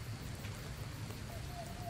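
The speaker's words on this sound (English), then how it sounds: "It sounds like it's raining, but I don't see any rain." Steady rain ambience in the video game Gotham Knights, a soft continuous hiss of falling rain with low rumbling underneath and no clear voices.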